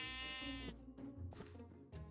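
A sheep in Minecraft gives a single clear, drawn-out bleat close by, followed by rustling game sounds and soft movement noises.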